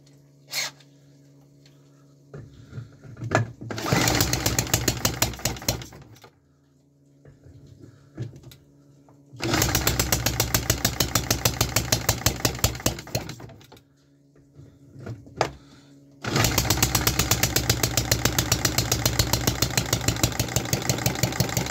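A 3D-printed engine on a test run fires up in three separate bursts, each a loud, rapid, rattling run that cuts off into near silence between attempts.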